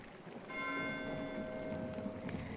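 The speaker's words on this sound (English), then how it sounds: "Why is Matthew ringing the bell?" A church bell in the video game Pentiment rings with a sustained, faint metallic tone and lingering overtones over soft ambient background.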